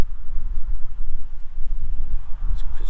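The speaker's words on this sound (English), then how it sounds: "It's windy." Steady low rumbling wind buffeting the microphone, continuous and close, with no talking.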